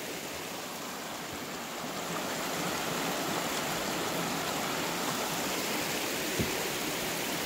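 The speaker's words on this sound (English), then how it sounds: "We're getting closer to the waterfall." A mountain stream and waterfall on a hiking trail near Skagway, Alaska, give off a constant, full rushing hiss of flowing water that swells slightly and stays steady and near throughout.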